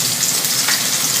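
Garlic frying in a pan, a loud, close, continuous sizzling hiss that holds steady for a brief moment.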